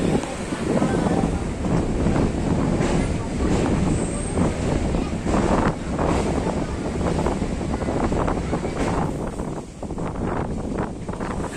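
Inside a nearly empty moving passenger train in North East India, a steady loud rumble of wheels and carriage mixes with rushing wind noise, continuous throughout.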